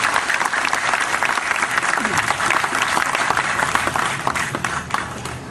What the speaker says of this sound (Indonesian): Tepuk tangan semua teman-teman sekalian untuk cinta kita bersama